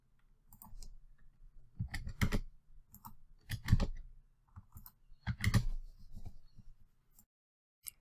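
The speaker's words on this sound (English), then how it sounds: "as the participant types in their answers" Keystrokes on a computer keyboard come in quiet, scattered bursts of clicks separated by pauses, close and clear with no talking.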